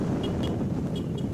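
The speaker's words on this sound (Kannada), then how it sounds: "ಗಾಳಿ ಇರೋ ಹೊಡ್ತಕ್ಕೆ ವೀಡಿಯೋ ಮಾಡೋಕೆ ಬೇಸರ ಇರುತ್ತೆ" Strong wind buffets the microphone outdoors in Koppal, Karnataka, a steady low rumble filling the whole stretch with no break.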